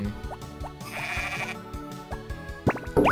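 Sheep in the Harvest Moon video game bleat in a couple of short, wavering cries, loud and close over the game's background music and effects.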